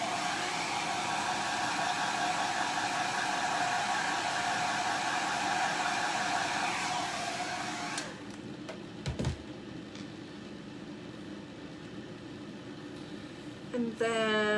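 A handheld dryer blows a loud, steady whoosh of air to dry chalk paste, running continuously for about eight seconds before cutting off, followed by quieter handling noises and a brief clatter.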